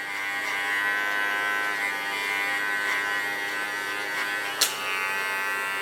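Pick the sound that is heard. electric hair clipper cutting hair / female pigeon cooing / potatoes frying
electric hair clipper cutting hair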